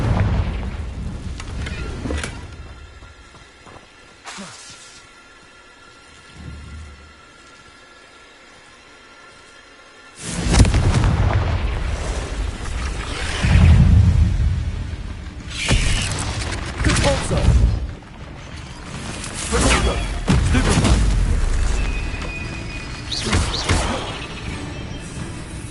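Confringo explosive spells burst in Hogwarts Legacy combat: a sharp early crack, a quiet lull, then a run of heavy booms and crashes mixed with voices.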